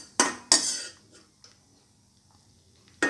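Metal utensil scraping browned cashews out of a pan: two sharp clinks in quick succession, a few faint scrapes, then another clink at the end.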